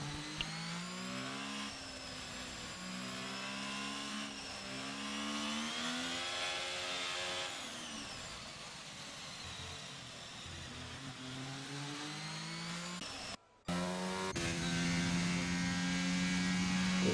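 Race cars circle a Miami track in a sim racing series, several engines droning and shifting pitch together with a steady, loud whine; a brief cut near the end gives way to a sustained high engine tone.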